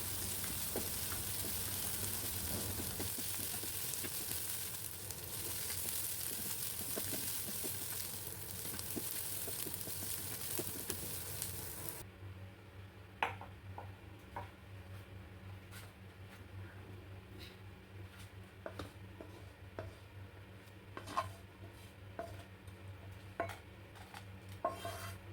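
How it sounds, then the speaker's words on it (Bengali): Nigella seeds frying in a little hot oil for a raw banana mash: a loud, dense sizzle for the first half, then it drops to a quieter hiss broken by scattered clinks and stirring scrapes. "এখানে অল্প পরিমাণে আমি কালো জিরা দিচ্ছি। এখন কিছুক্ষণ তেলের মধ্যে ভেজে নিব।"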